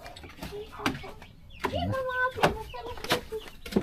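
Chickens clucking and a rooster crowing in a rural Filipino yard, clustered squawks and clucks near the microphone mixed with people talking and background clatter.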